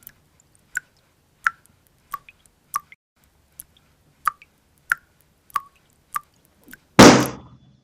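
A water tap drips close by in a quiet room, with about a dozen crisp drops falling at a steady rhythm roughly every half second, then ending in a sudden loud burst of noise.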